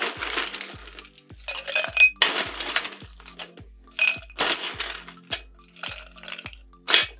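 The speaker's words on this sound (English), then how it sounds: "So fill up your glass with ice," Ice cubes drop into a highball glass in a series of separate clinks and clatters, bright and close, with short pauses between scoops.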